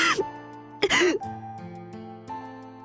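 A female character named Alice in the visual novel Witch on the Holy Night coughs harshly in pain, two sharp rough bursts over a soft sustained musical drone.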